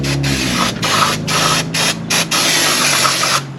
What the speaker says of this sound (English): So I got some brake cleaner. Just spray that on there.